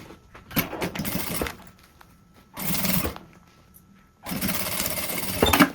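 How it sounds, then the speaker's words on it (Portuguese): Sewing machine stitching a closing seam on a zippered toiletry pouch with a clear window, in three loud bursts of rapid stitching separated by quieter pauses. "E agora a gente vai passar uma costura fechando."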